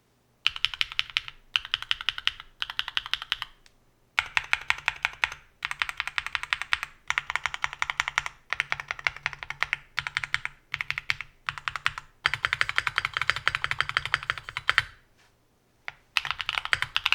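Typing on a LuminKey80 mechanical keyboard fitted with Cherry-profile keycaps: fast, close bursts of crisp keystrokes in runs separated by brief pauses, with no talking.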